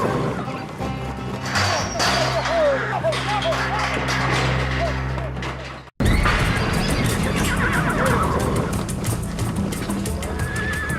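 Several horses neigh and whinny in a corral during an illegal roundup, with hooves clip-clopping and thudding throughout; the animals sound close and loud, with voices mixed in and a brief cut midway.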